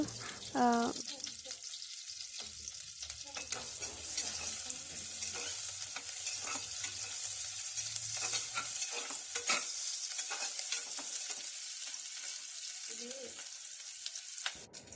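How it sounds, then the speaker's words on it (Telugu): Sliced onions, green chillies, cloves, cinnamon stick, bay leaf and a flower spice frying over medium flame in a pan for South Indian coconut rice, a steady continuous sizzle with intermittent stirring scrapes throughout, no talking. "ఇవి లైట్ గోల్డెన్ కలర్ వచ్చేంత వరకు బాగా వేయించుకోవాలి"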